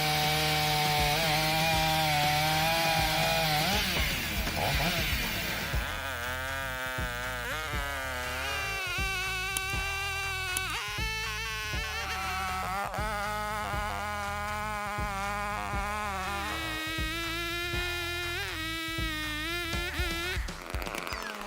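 Husqvarna 572 XP chainsaw cutting timber, a loud continuous engine whine that rises and falls in pitch as the chain bites and frees, close and unbroken throughout.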